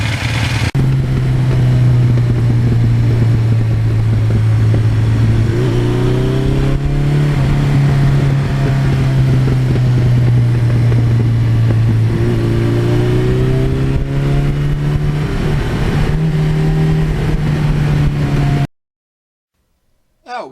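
A 1982 Suzuki GS1100E motorcycle riding on the road with new brake rotors and pads, its engine giving a steady loud drone with gentle rises and falls in revs, close to the listener, until it cuts out near the end.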